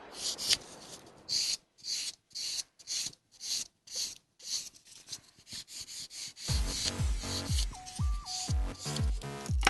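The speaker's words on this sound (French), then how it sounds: "je passe la scratchless pour affiner encore et que la peinture ne parte pas dans les rainures" Nail buffer rubbed over a fingernail to smooth it before painting, giving a run of short, close rasping strokes in a steady rhythm, with a brighter, busier scraping in the final few seconds and no voices.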